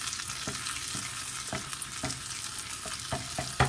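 Aromatics sautéing in a pan for a Kerala prawn and raw mango curry, a steady close sizzle broken by soft regular scrapes of stirring about every half second.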